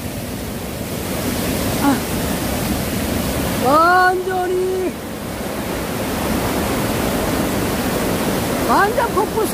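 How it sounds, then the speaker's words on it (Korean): A mountain stream swollen into a waterfall by heavy typhoon rain roars with loud, constant broadband rushing water, while people speak briefly over the torrent. "계곡이 폭포수가 돼버렸어요"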